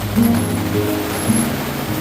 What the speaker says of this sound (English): It's gonna rain relatively hard here for a bit.